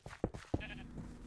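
In Minecraft, a sheep gives a short, close bleat with a few wavering pulses. The single call is quick and clear over faint game ambience.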